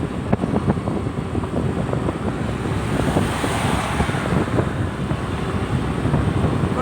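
Steady, loud wind buffets the microphone while a motorcycle rides home in the evening, a continuous roaring rush with no pauses or voices.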